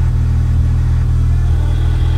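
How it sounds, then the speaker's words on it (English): A B8 Audi S4 fitted with an ECS valved exhaust revs loudly and steadily from close by. The deep engine rumble holds throughout, with no voices over it. "It's a ECS valve exhaust."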